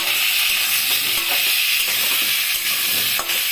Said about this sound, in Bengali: এবারে ভালো করে নাড়াচাড়া করব।